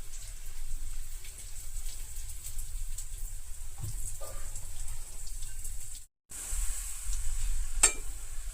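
Coriander seeds and cumin roast in a pan, giving a steady soft sizzle throughout with faint stirring clicks and a brief dropout near the end.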